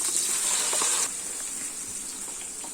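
Ground masala paste hits hot oil in a pan already tempered with mustard seeds and curry leaves for a ginger kulambu, giving a loud, steady sizzle that eases slightly after the first second.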